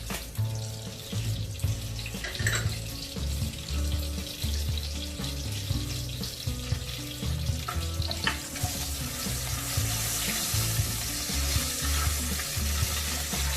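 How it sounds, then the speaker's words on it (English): Curry leaves and red chilies fry in hot oil, crackling and sizzling steadily throughout, with scraping stirs and clinks of a utensil against the pan. "Curry leaves, red chilies,"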